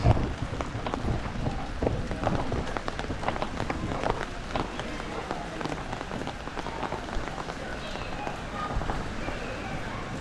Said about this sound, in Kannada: ನೋಡ್ರಿ ಮಳೆ ಬರ್ತಾ ಇದೆ